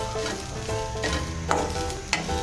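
Grated coconut sautéing in a pan for egg kurma, a continuous close sizzle under repeated spatula stirring scrapes, with no voices.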